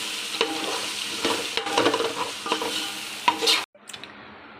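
Coriander powder and Kashmiri chili powder being stirred into a sizzling biryani masala in a pan, a steady close fry with a spoon scraping through it, ending in a brief pause.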